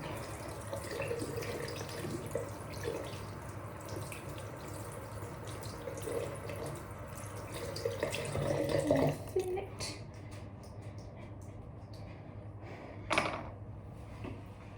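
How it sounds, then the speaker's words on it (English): A brush is rinsed under a running kitchen or bathroom tap, with steady splashing water close by for most of the clip before the flow cuts off, followed by a few drips and a clunk. "Just need to rinse the brush out."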